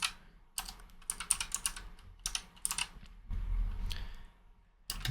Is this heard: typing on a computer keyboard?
yes